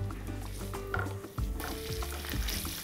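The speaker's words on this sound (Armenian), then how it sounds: "Խոզապուխտը կտապակենք այնքան, մինչև կարմրի այսպես խրթխրթան դառնա" Ham sizzling and frying in hot oil in a pan until crispy, a steady crackling sizzle with occasional stirring clatter, close and fairly loud.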